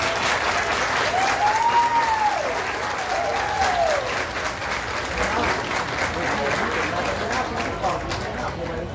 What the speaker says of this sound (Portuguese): Aplausos à nossa homenageada